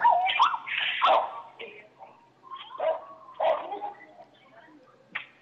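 Dogs at a small store bark and yelp in sharp, uneven bursts over a phone line, sounding thin and narrow, with voices talking between and over the barks.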